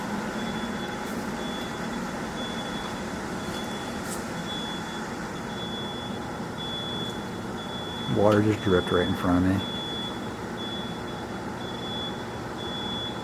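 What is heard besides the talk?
alarm beeping in an abandoned mall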